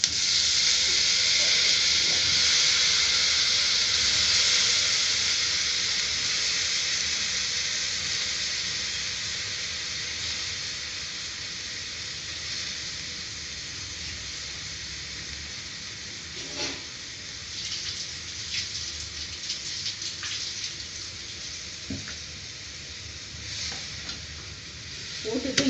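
Drained vegetable stems are tipped into a pan of fried onions, which sizzle and hiss steadily throughout. Scraping stirs sound at intervals, and the frying fades slightly as the pan settles.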